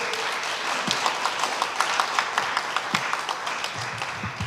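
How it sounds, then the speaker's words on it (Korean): Audience applause at a live civic presentation contest in Pyeongtaek, a steady moderate patter of many hands clapping, somewhat distant and even, with a few louder individual claps standing out. "박수 소리가 점점 더 뜨거워지고 있습니다"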